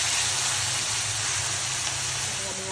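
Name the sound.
stirring frozen yellow and green capsicum with onion and garlic in a pan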